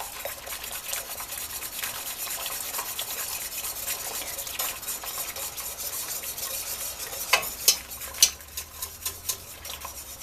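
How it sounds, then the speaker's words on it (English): Pork roast gravy boiling as cornstarch slurry is whisked in, a constant bubbling hiss with brisk whisk scraping, then a run of sharper metallic taps near the end. "always be whisking it at the same time that you're adding your cornstarch slurry"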